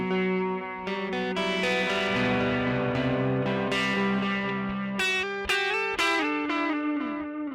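Overdriven electric guitar, run through a Line 6 Helix, playing sustained chords and notes, with delay echoes trailing each phrase, loud and continuous.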